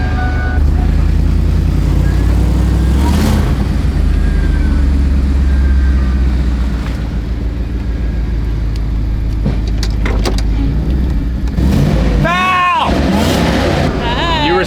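A loud supercharged Ford F-150 Harley-Davidson Edition pickup engine rumbles steadily with deep exhaust tones, rising in a rev near the end, while people talk over it.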